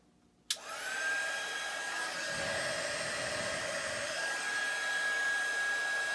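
A heat gun powered by a Harbor Freight Predator 350 power station clicks on and then blows with a steady, loud whooshing roar and a fixed high whine that hold to the end.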